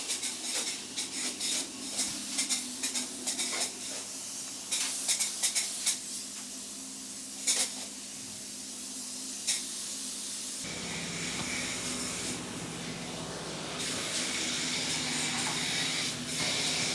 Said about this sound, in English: they just spray this insulation, spray it onto the exterior sheathing, and it expands out